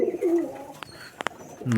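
A Rajshahi Giribaz flying pigeon coos close by, a low throaty warble opening the moment and returning at the end, with a few sharp clicks and taps in between.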